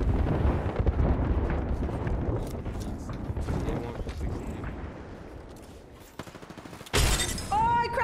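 A grenade blast in the Apex Legends battle royale game booms through rapid gunfire and crackling impacts, followed by a sharp shattering burst near the end.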